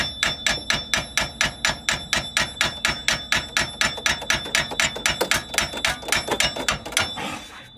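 A hammer pounds a vehicle's axle ball joint at a junkyard in a fast, steady rhythm, about two dozen loud sharp clangs in a row before stopping.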